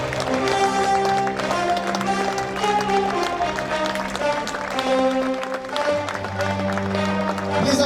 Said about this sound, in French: Je voudrais s'il vous plaît qu'on accompagne avec vos applaudissements